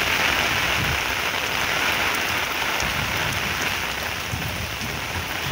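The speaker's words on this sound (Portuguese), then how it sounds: "a chuva tá chegando aqui" Steady rain pours down continuously in rural Pernambuco, Brazil, a dense even hiss with scattered drops, no voices, for the whole stretch.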